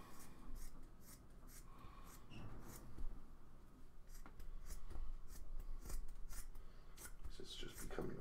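Scissors snip repeatedly through material for a rear console and subwoofer box in a 1968 Dodge Polara, a steady run of close crisp cuts with faint voices and handling noise around them.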